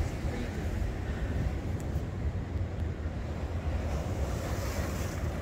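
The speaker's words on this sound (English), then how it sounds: "Them big old waves." Ocean surf at Venice Beach rolls in as a steady, fairly quiet wash of breaking waves, blended with gusty wind noise across the microphone.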